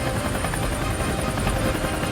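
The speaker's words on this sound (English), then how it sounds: "the chopper pilot is able to lift them safely away" A rescue helicopter hovers close overhead, its rotor giving a loud, steady, dense roar with a rhythmic beating that holds unbroken throughout.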